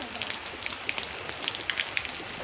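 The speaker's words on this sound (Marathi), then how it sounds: "आज सकाळपासून पाऊस आहे" Steady morning rain patters on surfaces nearby, a soft continuous hiss with scattered sharper drips.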